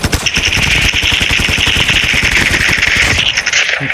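Automatic rifle fire in the mobile shooter game Call of Duty Mobile, loud, rapid bursts of evenly spaced shots in a sustained stream, close and dominant, with a short pause near the end.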